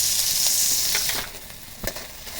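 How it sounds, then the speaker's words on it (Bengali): Prawns fry in hot mustard oil in a pan, a bright steady sizzle that softens slightly midway, with a couple of stirring knocks against the pan. "মাছগুলো একটু ভেজে নেব।"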